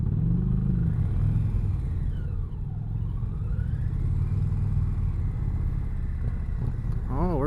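A 2020 Indian Challenger touring motorcycle rumbles steadily close by on a demo ride, a continuous engine drone that dips briefly midway, with voices talking over it.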